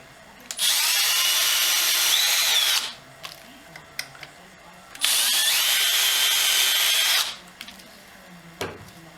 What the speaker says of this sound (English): now we're just going to drill a couple of pilot holes for the screws here